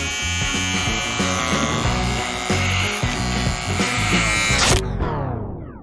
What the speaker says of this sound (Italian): Si è inceppato il rasoio.